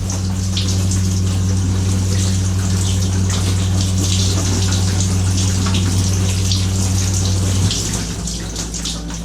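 Hot shower running inside a Sprinter van, steady close spray hiss over a low droning water pump that drops off near the end while the water keeps falling.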